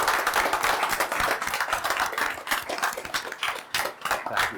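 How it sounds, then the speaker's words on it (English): Audience clapping at an aerospace society awards event, a close, uneven patter of individual hands from a modest crowd, with sharp distinct claps rising and falling over several seconds and no talk. "Let's have a round of applause for them."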